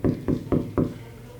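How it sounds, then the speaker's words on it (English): Four firm knocks on a door, evenly spaced and close, each a dull, solid thud, followed by a moment of quiet with no voices. "He heard a knock at the door."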